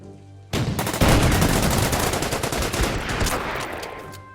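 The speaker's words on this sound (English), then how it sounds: "Hit them with the tanks." Tank guns and heavy weapons fire in a World War II strategy game, a sudden loud burst followed by sustained rapid crackling gunfire and explosions with no talking.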